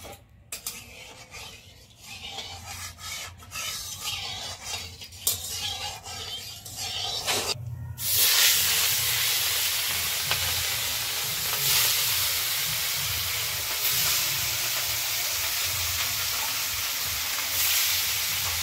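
Rohu fish frying in hot mustard oil, a steady loud sizzle and hiss that starts abruptly and holds continuously, preceded by quieter kitchen clatter and stirring.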